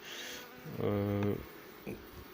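A single bee from a stray swarm being hived with a foundation sheet and frame buzzes close by for about half a second, a loud tonal drone that fades, with a faint second buzz after it over quiet outdoor background.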